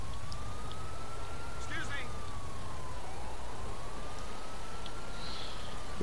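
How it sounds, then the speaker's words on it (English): A faint siren in the video game GTA IV wails slowly up and down beneath a steady hiss of background noise, with a few brief higher chirps. "I actually do hear a siren"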